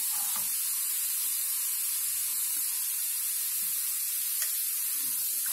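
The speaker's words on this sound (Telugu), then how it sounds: "బాగా ఫ్రై అవ్వనివ్వండి" Pumpkin halwa frying in ghee, a loud, continuous, even sizzle and hiss close up, with occasional soft stirring bumps underneath.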